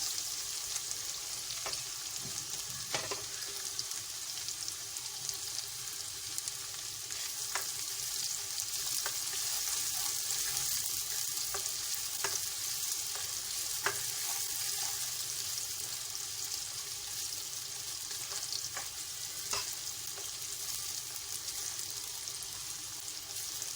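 Onions sizzle in a pan with cumin seeds, whole chilies and oil, a steady soft frying hiss broken by occasional light clicks from stirring, for baingan bharta.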